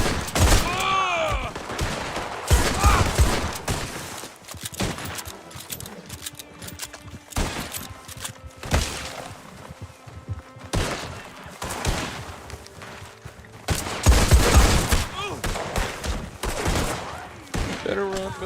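Scattered gunshots echo in a Red Dead Online shootout, with loud close blasts arriving in clusters and separated by quieter stretches of distant shots, shouting and voices.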